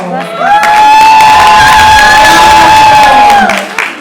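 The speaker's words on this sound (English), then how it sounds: "A round of applause for her." A crowd at a young engineers program cheers and whoops loudly and steadily for a female panelist, with high shrill shouts rising over the din for several seconds before tapering off.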